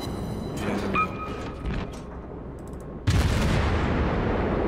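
Naval gunfire from an Omaha cruiser in World of Warships, a booming volley that cuts in sharply after a few seconds of rumbling battle noise, with a loud sustained roar at close range.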